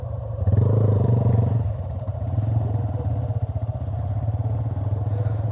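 Motorcycle engine idling close by with a steady, throbbing low putter that swells briefly louder near the start and then settles back into an even chug.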